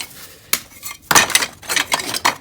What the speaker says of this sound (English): we're going to put some crocks in the bottom. Just to aid the drainage